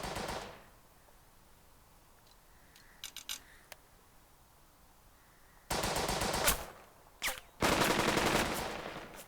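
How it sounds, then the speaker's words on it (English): Gunfire in the Burden of Command World War II video game: a few scattered rifle shots early, then loud sustained bursts of machine-gun fire with a brief single shot between them. "Because they're shooting at us down here."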